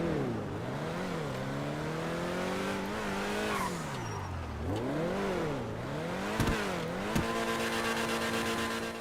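Car engine held against its rev limiter, the pitch repeatedly swooping up and down in wavering surges, loud and close, with a few sharp clicks or pops near the end and no other voices.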